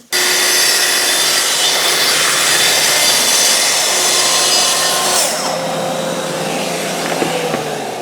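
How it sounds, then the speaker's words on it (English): A circular saw running along a guide rail makes a fine trim cut, a loud, steady, close whine and rasp through the wood that lasts several seconds, then eases into a lower run-down with faint knocks. "I'm putting my guide rail on, and I'm now going to do this very fine trim cut along here"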